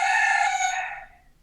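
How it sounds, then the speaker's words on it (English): A rooster crows once, loud and close, the long call fading out toward the end with no other sounds around it. "They crow it every morning because they're letting the hens know it's morning"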